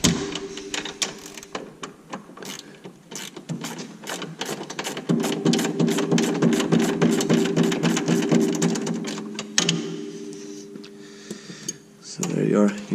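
Wrenches work a link nut loose on a Can-Am X3 front end, producing a rapid, steady run of metallic ratcheting clicks near the mic, pausing briefly and then resuming.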